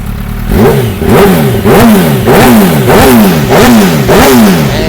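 A 1000cc sport motorcycle fitted with a full-system aftermarket exhaust is revved hard in repeated, evenly spaced bursts. Each rev climbs sharply and drops back between blips, very loud and close.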